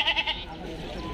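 Goats bleating at the Gabtoli cattle market in Bangladesh, a few short close calls at the start that fade into a steady crowded market din.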